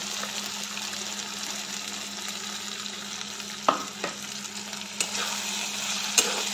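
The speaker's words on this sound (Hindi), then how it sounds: "अब मैं इसमें जो है ये जो फ्राइड श्रिम्प है चिंगड़ी मच इसको ऐड कर दूँगी" Fried shrimp being stirred into a potato masala frying in a pan, a moderate steady sizzle with a low hum beneath and several sharp spatula clacks toward the end.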